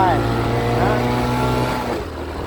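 A motorcycle engine labours loudly in first gear up a sandy canyon slope, a steady, strained drone that holds near and then eases slightly at the end, while someone talks over it.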